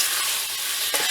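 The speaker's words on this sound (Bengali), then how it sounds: "ভালো করে মাংসটা আমরা কষিয়ে দিচ্ছি" Chicken meat stir-fried in a pan for chicken kosha, a steady close sizzling hiss with scraping stir sounds and a brief louder burst near the end, no talking.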